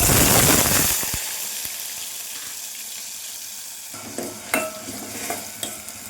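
Onion, cinnamon, cloves and cardamom hit about three spoons of hot oil in a pan with a loud hiss that quickly eases into a quieter, steady sizzle, broken by a few light clinks of stirring.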